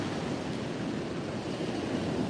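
Pacific Ocean surf rolls steadily onto the long sand spit beach at Morro Bay on California's Central Coast, a continuous broadband wash of breaking waves with some wind noise and no voices.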